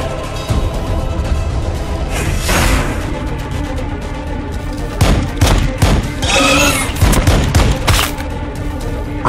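Plasma fire support barrage in Warhammer 40,000: Battlesector, a dense, loud, continuous rolling of rapid blasts and booming impacts with heavier bursts scattered through.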